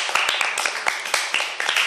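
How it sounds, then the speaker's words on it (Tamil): An audience claps for small children after a Bible quiz, a short burst of loose, uneven handclaps with several distinct sharp slaps, fairly close and without talk. "நம்ம எல்லாம் அவங்களுக்கு கைத்தட்டிடலாமா?"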